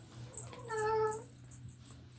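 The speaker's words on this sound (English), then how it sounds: "That's my cat Princess" A single drawn-out meow from a cat in heat, close and fairly loud, with a steady low hum running underneath.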